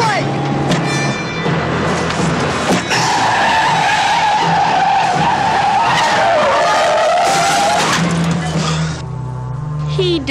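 A car with a stuck gas pedal speeds out of control, its engine roaring loudly while tires squeal and skid in long rising and falling screeches, with shouting voices over the noise.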